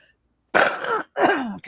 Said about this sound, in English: The way you're coughing.